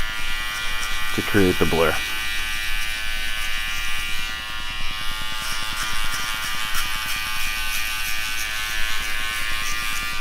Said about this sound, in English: as I work my way down, I move the clipper with the grain